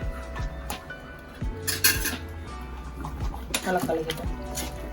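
A spoon stirs sambar with coriander and curry leaves in a metal pot, giving scattered clinks and scrapes against the pot over a quiet kitchen background.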